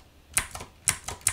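Three crisp clacks of computer keyboard keys pressed on a Windows 11 PC to switch the input layout, close and evenly spaced, with no talking.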